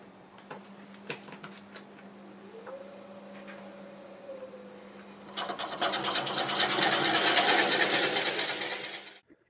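A drill with a 1 1/8 inch Forstner bit bores into a sweet gum log, with a motor whine and a rising tone first, then a loud, close, rough rasping chatter as the bit cuts the wood before stopping.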